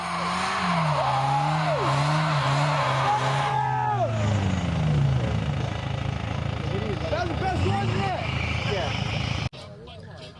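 An Audi A4 and a Toyota Yaris in a car tug of war at a Gambler 500 off-road gathering in New York: engines rev and strain, with tires squealing and rising, falling whines before an abrupt cutoff near the end.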